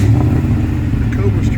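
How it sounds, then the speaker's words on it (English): A newer supercharged Ford Mustang races an old turbocharged Cobra, their engines a loud, steady low drone close by, with a person talking over it. "this is going to be the new Mustang, or the newer Mustang, racing the old Cobra"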